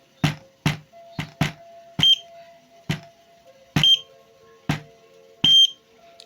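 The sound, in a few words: piezo buzzer beeping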